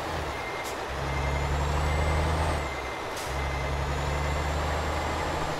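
A heavy truck in Euro Truck Simulator 2 rumbles steadily at low pitch, with two sharp hissing air-brake releases and a thin high whine rising and falling across the engine drone.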